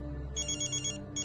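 A telephone ringtone chirps in two bursts, the first about half a second long and the second starting near the end, set against a low indoor hum in a Hindi household drama.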